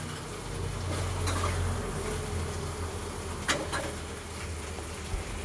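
Vegetables fry in a pan for a tempering, giving a steady low sizzle with occasional stirring clicks and scrapes, moderately close and with no voices.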